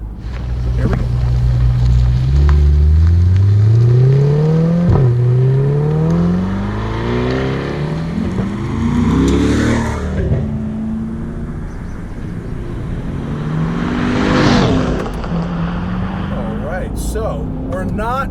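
A production C8 Corvette accelerates hard in Sport mode, its engine note climbing through rising sweeps with gear changes, loud and close from inside the cabin, with people talking over it.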